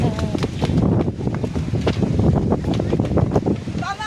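Steady wind gusts buffet the microphone outdoors on a boat trip, with water and engine rumble beneath and people talking throughout.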